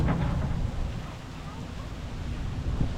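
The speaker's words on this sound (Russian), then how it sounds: "Здесь очень ветрено." Steady wind buffets the microphone with a low, rumbling roar on a beach near Ephesus, with a faint wash of surf in the background and no clear voices.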